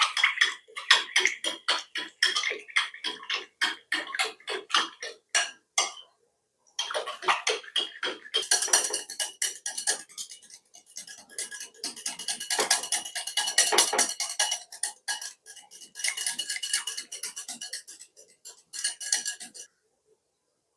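A metal spoon clinks and scrapes rhythmically against a bowl while thick curd is mashed, with rapid repeated strokes, a brief pause, then a longer stretch of brisk scraping and clattering up close.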